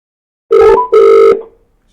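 Two long electronic telephone ring tones, close and fairly loud, heard on an outgoing call before anyone answers, with a short gap between rings and then silence.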